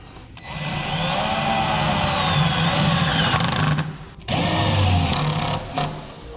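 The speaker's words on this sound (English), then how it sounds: "We'll use the self-tapping screws that come with the kit and begin securing it." Power drill driving self-tapping screws into a bracket while securing a Curt 5th wheel/gooseneck custom wiring harness with a 7-pole connector; a close, loud whirring run with a brief stop and a second burst.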